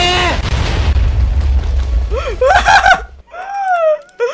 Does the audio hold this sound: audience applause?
no